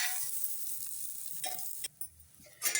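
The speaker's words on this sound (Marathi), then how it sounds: "बघा आपलं हे कांदा, लसूण, अद्रक छान भाजून झाले" Onion, garlic and ginger roast in oil in a pan for a ground spice paste for an eggplant dish. A steady nearby sizzle carries a few stirring scrapes, then briefly cuts out before a final loud burst of frying.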